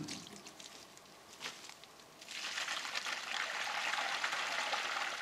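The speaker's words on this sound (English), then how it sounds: "You hear that water running out of the open hose end?" Water draining out of the open end of a firetruck hose laid downhill on a rural off-grid property, a faint steady trickle that swells into a continuous gushing flow, with no talk.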